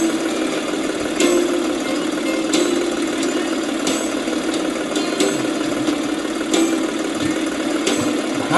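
A tractor engine hums steadily in the farming game Professional Farmer 2014, a constant mid-pitched drone with faint periodic clicks, close and even throughout.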